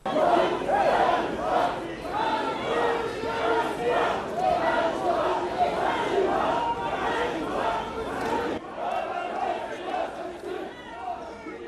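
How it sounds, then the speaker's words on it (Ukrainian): A crowd of protesters shouts slogans in loud rhythmic unison at an arriving politician in Mykolaiv, the massed voices chanting continuously with a brief dip before picking up again. "Чемодан вокзал Росія такими вигуками зустрічають Нестора Шуфрича"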